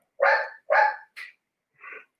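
A dog barks three times in quick succession, loud and close, then gives a fainter, shorter fourth bark after a brief pause.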